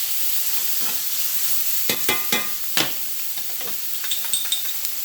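Sliced steak frying in a pan, with a steady hissing sizzle and a few close, crisp scrapes and taps of a utensil as the meat is stirred.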